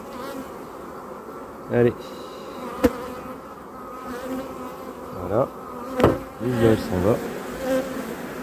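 Honeybees buzz steadily around an open hive in summer, a continuous insect drone with louder swells as bees fly close past, while a person speaks briefly in French over it.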